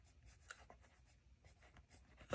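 Pencil writing math homework by hand on paper, faint close scratching strokes in short bursts, ending with a louder tap.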